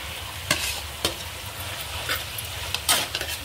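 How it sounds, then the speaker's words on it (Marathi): Prawns go into a kadai of simmering green chilli gravy and get stirred, a continuous bubbling sizzle broken by a few sharp spoon clicks against the pan, close and fairly loud with no voices. "आता याच्यात आपण हे प्रॉन्स टाकूया"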